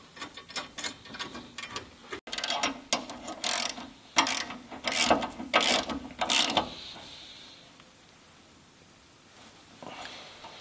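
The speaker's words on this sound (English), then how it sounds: "Now you will use an 11/16 and a 5/8 wrench to tighten these down." Wrenches tighten lock-washered nuts on bolts of a Jeep JK body-mount tire carrier, producing a close, rapid series of ratcheting metal clicks and clanks that thin out into quiet near the end.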